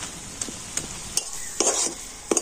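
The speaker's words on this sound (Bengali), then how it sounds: "তো আমি এরকম নাড়াচাড়া করে এটাকে একটু শুকনো মতো করে নেব" Kadai shak greens being stirred and tossed in a hot pan until dry: irregular scraping strokes of a spatula over a soft, steady sizzle, fairly close and alone.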